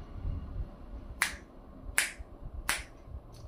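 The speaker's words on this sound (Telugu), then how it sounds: "ఏంటి 3 చిటికలు వేశారండి." Three crisp, evenly spaced finger snaps ring out sharply against a quiet, low rumbling background, with the start of another snap cut off at the very end.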